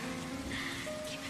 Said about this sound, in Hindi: जब बारिश की बूंदें हवा के साथ मेरे चेहरे को छूती है